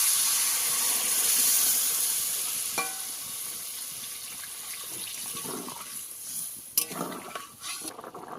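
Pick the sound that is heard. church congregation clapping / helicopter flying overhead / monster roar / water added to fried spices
water added to fried spices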